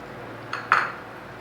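Red kidney beans, chickpeas and macaroni dropped into a bowl, two quick clinks of spoon against the dish, the second louder, in a quiet kitchen.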